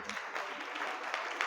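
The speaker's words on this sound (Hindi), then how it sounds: "चल ताली बजाओ इन माता के लिए" A small audience claps together during a religious sermon gathering, a brief patter of scattered handclaps at moderate distance.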